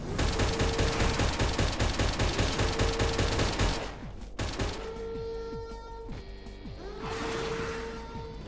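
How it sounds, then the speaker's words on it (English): An anti-air gun in the game Palworld pounds out rapid, loud, rhythmic shots for several seconds, then gives way to scattered blasts and whooshing effects under a steady tonal hum, with no talking. "Oh my god, that's an anti-air gun."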